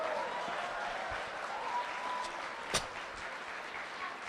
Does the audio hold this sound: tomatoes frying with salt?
no